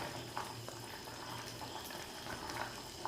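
Rasgulla cooking at a high flame in sugar syrup in a covered pot, a soft steady bubbling simmer, faint and continuous with small pops.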